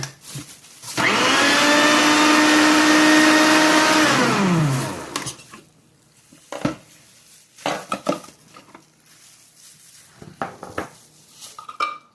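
A food processor chopping onions, garlic and peppers for fresh garden salsa runs loud and whirring for about four seconds, then winds down. Clanks and clatters of the bowl and lid follow, with no talk.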